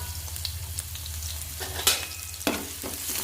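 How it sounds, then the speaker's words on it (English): Chopped onion, curry leaves and dried chili frying in oil for a Kerala ripe mango pulisseri, a soft steady sizzle broken by a few sharp spattering crackles and stirring clicks over a low hum. "Add chopped onion, curry leaves, dried chili to the oil."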